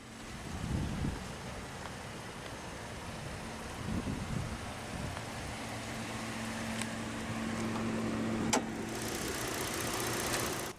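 Steady idle of a 2008 Ford Taurus X Eddie Bauer's Duratec 35 3.5-liter naturally aspirated V6, a low even hum with a faint whine, heard continuously at moderate distance with no talk.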